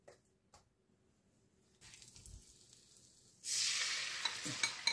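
Butter sizzling in a hot frying pan for a Thai-style omelette, a bright frying hiss that starts up partway through and holds steady and fairly close, after a quiet stretch with faint stirring.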